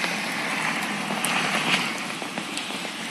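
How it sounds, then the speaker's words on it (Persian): Heavy rain falling on soaked ground and a street at night, a steady dense hiss with scattered close drips and splashes, no talk. "چه بارونی هم میاد"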